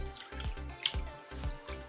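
Water drips steadily onto a very hard bar of 100% cocoa butter soap, with soft, irregular drips and small splashes spread close together over a faint background.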